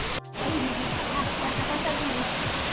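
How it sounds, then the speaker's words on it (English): A Southern California waterfall running strongly after rain gives a steady, dense broadband rush, with faint voices of people nearby and a brief dip near the start. "Over here at the waterfall,"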